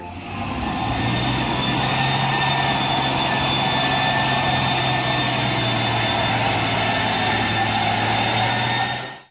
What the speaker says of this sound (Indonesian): Di sini ada mobil truk tangki.